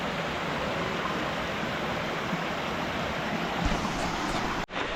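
Steady, dense rushing of water from a series of small mountain waterfalls at Old Buruwisan Falls in Siniloan, Laguna, a broad unbroken roar filling the scene that drops out abruptly near the end.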